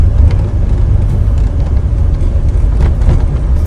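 Late-VIN DeLorean driving along, a continuous low engine and road rumble from inside the car, steady and fairly loud with no pauses.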